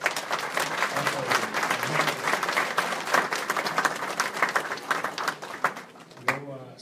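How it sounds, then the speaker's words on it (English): A crowd at a branch renaming ceremony breaks into warm, sustained applause, dense clapping filling the room at close range before tapering off near the end. "I'll put a nice round of applause for Ethel."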